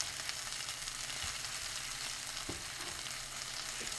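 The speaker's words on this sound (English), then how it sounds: "All you're doing really is, at this point now, is wilting down the cabbage." Shredded cabbage wilts down in a hot pan, frying with a steady, close sizzle, and occasional stirring knocks and scrapes come through without any talk.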